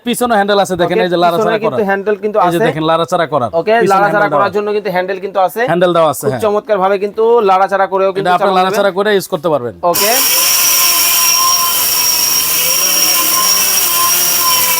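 A steel Bush Robot blender roars to life after about ten seconds of talking, its loud, steady motor whir holding unbroken until the end.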